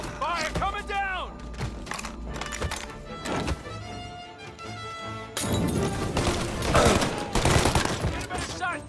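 Rapid bursts of gunfire in the video game Mafia crack repeatedly, with loud volleys and crashes, under urgent shouting voices.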